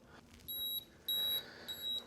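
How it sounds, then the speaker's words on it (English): Home brewing system beeping to signal mash-in temperature while brewing a NEIPA: three electronic beeps, the first two longer and the third broken, fairly close and clear over quiet background hiss. "that beep signals that we've reached our mash in temperature"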